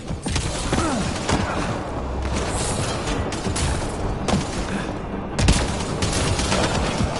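Dense sustained gunfire in the Mass Effect Andromeda combat game, with rapid automatic bursts and sharp shot transients throughout, loud and close, with no talk over it.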